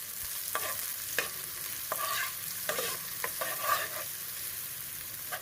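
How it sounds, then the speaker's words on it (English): Garlic and onions frying in hot oil for Jamaican-style lobster fried rice, a steady close sizzle with several sharp stirring scrapes and no talking. "add your garlic, add your onions, and you're going to cook those until the onions are translucent"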